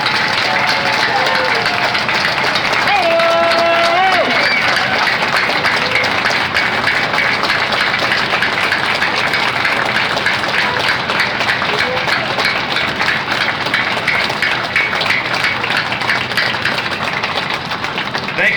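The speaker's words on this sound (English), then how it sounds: "Please give a big round of applause to our heroes here today, our wounded warriors that have joined us." A crowd at an outdoor political rally at Sailwinds Park in Cambridge, Maryland, claps steadily and loudly for the whole stretch, with voices briefly audible early on and a low engine-like hum underneath.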